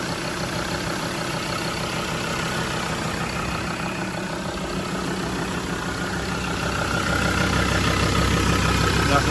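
A Mazda BT-50 engine idles steadily with an even, low rumble, growing slightly louder near the end, with no voices over it.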